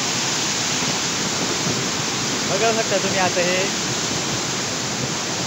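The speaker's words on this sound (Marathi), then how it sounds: "इथे तुम्ही बघू शकता रंधा धबधब्याचे हे रौद्र रूप अतिशय भयान" Randha waterfall in full monsoon flood sends up a dense, unbroken roar of rushing water, while someone speaks briefly over it midway.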